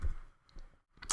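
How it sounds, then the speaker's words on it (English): A keyboard's enter key is pressed while logging in to a WordPress admin page on a local server. A few faint, sharp clicks sound close by in an otherwise quiet room. "and then hit enter."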